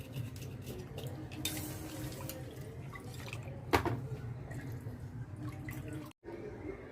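Hot water draining and dripping while a goat head is washed, a steady close trickle with scattered drips and one sharper splash midway.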